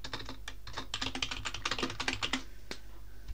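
Keys clatter on a computer keyboard in quick bursts of clicks, close and fairly crisp, pausing briefly before a final lone tap, with no talking over it.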